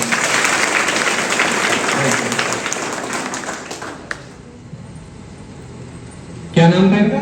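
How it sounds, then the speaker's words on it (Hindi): Schoolchildren applaud loudly in a room, dense clapping that fades toward the end before a voice speaks briefly at the close. "चलो ठीक है, इनके लिए जोरदार तालियां।"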